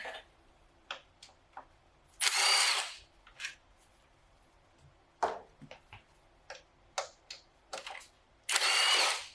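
A power drill spins out bolts from an Acura B-series transmission during a teardown, with three loud, whirring bursts of a few seconds each, separated by ratchety clicks and small metallic taps close by.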